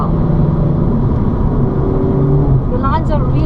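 A car's engine drones steadily as it laps a race track at Zwartkops, the motor noise continuous and close, with a person talking over it throughout.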